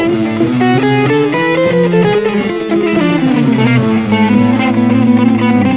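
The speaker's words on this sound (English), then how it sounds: "that is the sound of harmonic minor." A distorted electric guitar runs through the A harmonic minor scale in a neoclassical style, single notes stepping steadily up and down, loud and close with no talking.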